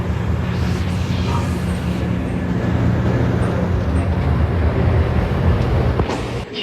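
A MARC commuter train with single-level coaches idles at a station platform, giving a steady low rumble and hum with faint clanks near the end.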